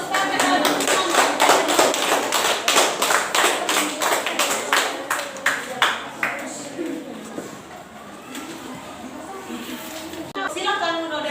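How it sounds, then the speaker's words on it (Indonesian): Classroom applause from students for a small student group about to present, with a long run of dense clapping that thins out midway, joined by chatter and a few loud taps near the end. "Kasih tepuk tangan dulu untuk kelompoknya Uno supaya mereka lebih semangat."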